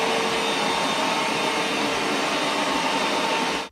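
A Roborock Q8 Max Pro robot vacuum cleaner running with a steady, loud broadband whooshing roar and faint whine, continuous and close before cutting off abruptly at the end.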